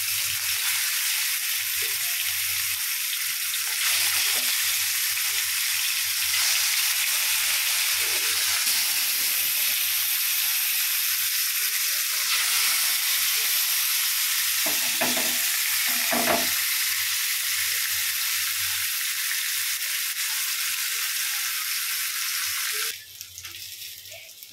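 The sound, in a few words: fish frying on a flat griddle pan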